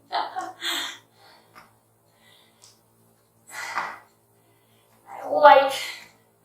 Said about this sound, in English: Hear me breathing?